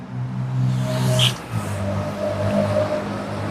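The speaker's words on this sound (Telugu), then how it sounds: "Push button start vehicle." A 2016 Maruti Vitara Brezza ZDI+ diesel engine starts and settles into a steady, fairly loud idle, with a brief rising rev near the start and a continuous low rumble throughout.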